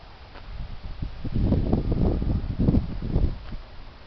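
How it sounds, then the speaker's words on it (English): Heavy wind rushes and buffets in uneven surges, rising to a loud, rumbling peak in the middle before easing. The sound is close and has no voices. "The heavy wind."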